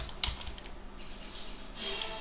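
Soft keystrokes on a computer keyboard as a podman-compose command is typed, a few scattered quiet clicks over faint room hiss.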